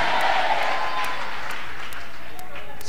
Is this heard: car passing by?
no